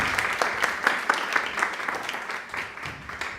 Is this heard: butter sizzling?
no